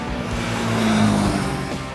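Bajaj Pulsar 150cc air-cooled motorcycle engine riding on winding roads, a steady close drone with a slight swell in revs midway, with wind rush and no voices.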